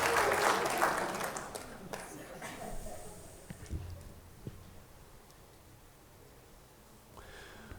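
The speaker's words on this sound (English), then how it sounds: "Applause, please." An audience applauds at a lecture, the clapping loudest at the start and then thinning into scattered claps that fade over several seconds.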